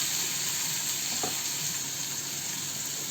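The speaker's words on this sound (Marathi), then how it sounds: "इथे टोमॅटोला गाळा नाही करायचा, तर परतून घ्यायचा आहे." Chopped tomato sautéing in a pan, a steady, even sizzle with a soft hiss at moderate volume and one faint stir around the middle, no voices.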